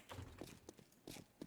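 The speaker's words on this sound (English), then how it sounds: "I heard the footsteps right there at the last minute" Footsteps in the survival game 7 Days to Die, a few quick soft thuds over about a second and a half, fairly close, mixed with other game noise.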